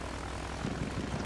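Bomber aircraft passing overhead in the World War I shooter game Battlefield 1, a steady broadband propeller-engine drone that swells slightly louder toward the end, with no talk.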